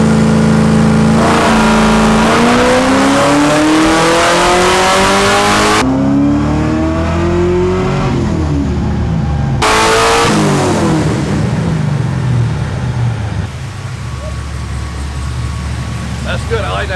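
Supercharged LS3 V8 swapped into a BMW E36 on a chassis dyno, loud close engine pulls climbing steadily in pitch, dropping off, then rising again through another full-throttle run.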